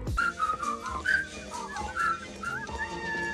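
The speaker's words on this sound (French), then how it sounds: "ils se mettent à siffler pour emmerder le boss" Whistling in a film scene, a jaunty tune whistled in short melodic phrases over a low background of music and room noise, fairly close and clear.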